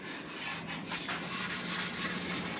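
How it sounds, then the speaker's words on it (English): Faint, steady scuffing rubs the surface of a corroded rear spoiler on a Fiat X1/9 to prepare it for paint, a continuous abrasive scraping heard close with no talk. "So we're gonna scuff this up, get it looking halfway decent, just so the paint has something to stick to."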